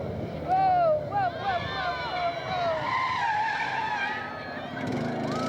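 A 400 horsepower Ford Mustang rally car at Targa Newfoundland skids on the stage, with tires squealing and sliding in wavering pitches over engine roar, loud and close, while a commentator talks over it.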